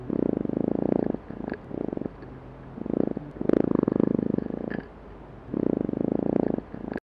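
The courtship song of a Drosophila melanogaster fruit fly comes as a series of buzzing, pulsed bursts of varying length separated by short quiet gaps, close and amplified, with no talk.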